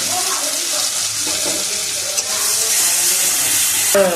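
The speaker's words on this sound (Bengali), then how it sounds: "আদা সরষে আর লঙ্কা যেটা বাটা হয়েছিল সেটা এবার দেওয়া হয়ে যাবে।" A ground paste of ginger, mustard and chili goes into a hot frying pan for a home-style spicy silver carp dish. The loud sizzle swells and turns harsher midway, with light stirring clatter.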